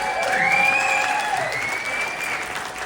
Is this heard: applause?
yes